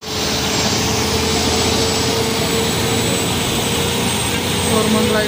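A city bus interior on a ride from Koramangala to Vidyaranyapuram, with a loud, constant engine drone and road rumble filling the whole stretch.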